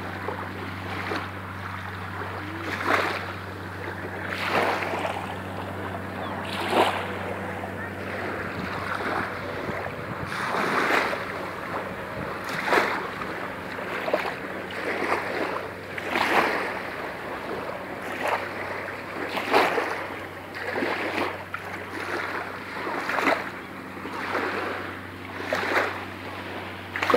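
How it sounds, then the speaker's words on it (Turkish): Sea waves wash and break repeatedly at Güvercinlik bay in Bodrum, each surge rising and falling every few seconds over a steady low hum of wind and boat noise, with no talk. "Su sesi, deniz sesi,"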